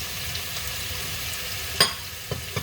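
Sliced bitter melon and onion crackle and sizzle in a hot pan for a Filipino or Okinawan stir fry, a steady close hiss punctuated by a few sharp utensil scrapes and clacks near the end.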